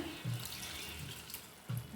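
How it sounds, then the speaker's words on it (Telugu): Water pours into a pan of prawn, brinjal and tomato curry as a continuous close splashing stream, with a few low bumps of the vessel along the way. "దీనిలో కొంచెం వాటర్ యాడ్ చేసుకుందాం కదా"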